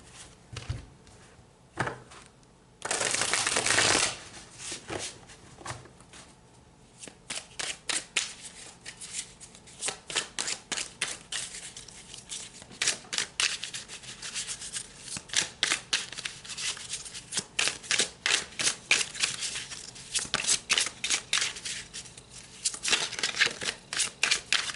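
A tarot card deck is shuffled by hand: a long run of crisp riffles and rapid flicking card slaps, with one sustained whirring riffle early on, close and clear with no talking.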